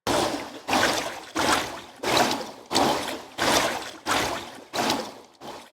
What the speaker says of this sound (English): The looping sound has a waterboard engine source with a tremolo effect on it